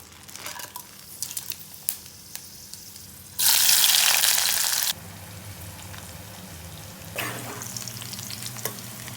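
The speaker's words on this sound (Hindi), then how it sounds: "तो तेल हमारा गर्म हो गया है, हम अपने मसाले और प्याज सौटे करते हैं" Onions and spices sauté in hot oil, a steady sizzle with stirring scrapes, swelling into one loud, bright burst of frying for a moment before settling back to a low crackle.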